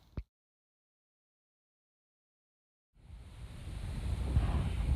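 Wind gusts across the summit of Blood Mountain on a chilly 30-degree day. A short knock opens the clip, then near-silence, then a steady broadband rush of wind that builds over the final two seconds.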